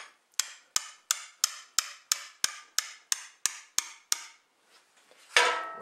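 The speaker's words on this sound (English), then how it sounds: "I got a big bad hammer over here" A hammer strikes a metal fitting about a dozen times in a steady, evenly spaced rhythm of sharp, ringing clanks, close and loud, ending in a brief scraping clatter.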